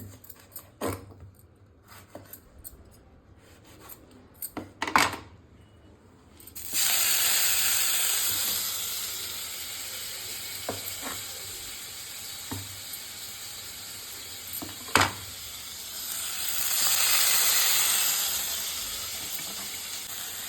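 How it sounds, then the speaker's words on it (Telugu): Tomatoes frying in oil in a pan for tomato chutney give a steady sizzling hiss that swells partway through, broken by a few sharp clinks and scrapes from stirring nearby. "ఆయిల్ వేసుకొని టమాటా కొంచెం రెడ్ కలర్లో వచ్చేదాకా వేయించుకోవాలండి"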